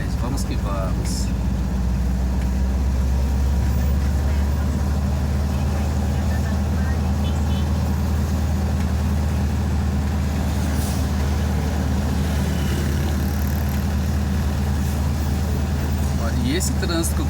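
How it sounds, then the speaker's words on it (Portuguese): Many trucks pass in heavy traffic on an access road to the Anhanguera highway near Osasco, a constant loud engine drone with hisses and clatter close by, under someone talking. "Esses monte de caminhão passando à minha esquerda aqui"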